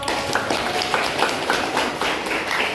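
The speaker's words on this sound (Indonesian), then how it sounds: "Tepuk tangan untuk Riko." Classroom applause for a student during a coaching session, a steady patter of many hands clapping together, dense and fairly loud throughout with no talk over it.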